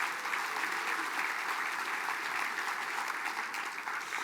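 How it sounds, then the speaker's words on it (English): Audience applause at a Mille Lacs Band of Ojibwe event honoring scholarship recipients: sustained, dense clapping from a crowd at steady loudness throughout. "Let's give our scholarships a round of applause,"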